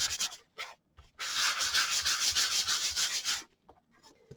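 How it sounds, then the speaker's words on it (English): Wood surface being sanded by hand with 220 grit sandpaper: a few short scratchy strokes, then a long steady close rubbing pass of rapid back-and-forth scrapes, ending in brief light rubs. "I always kind of like to sand it a little bit. And this is just 220 grit sandpaper."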